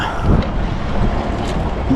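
Strong wind blows over open sea around a fishing boat, a loud, continuous low rumble of gusts and microphone buffeting with faint water noise beneath, no voices.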